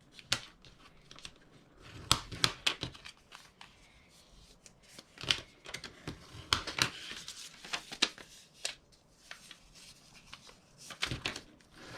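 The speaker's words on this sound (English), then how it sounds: "And then we're going to fold and burnish our scores." Scored paper being folded and burnished for a tea bag cover craft, a series of sharp crisp creases and dry rubbing strokes, close and quiet, irregular taps and swipes with no talk.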